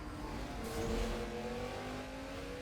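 A Dodge car's engine revs hard in a racing video game, a steady, loud mechanical drone with rising pitch that holds for the whole stretch.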